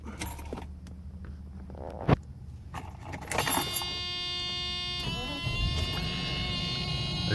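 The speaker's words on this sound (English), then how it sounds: "As you can see, the car starts right up immediately." A 1989 Mercedes-Benz 420SEL starts: a key clicks, the starter cranks briefly, then the V8 catches and settles into a steady, smooth idle close by, with no talking.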